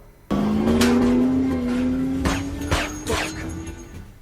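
A car in an action film roars off suddenly, its engine rising in pitch as it speeds away, with sharp bangs and impacts cutting through the loud, continuous motor.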